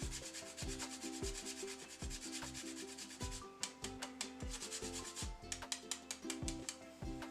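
Fresh whole nutmeg is scraped across a grater in quick, repeated rasping strokes, close and fairly quiet, with no voices.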